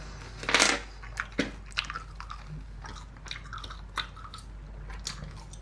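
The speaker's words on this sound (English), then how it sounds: "So then you chew the bubble gum, it's ready." Bubble gum is chewed close to the mic while making a Russian yo-yo, giving soft wet squishes and clicks at an uneven pace, one louder smack near the start, with no talking.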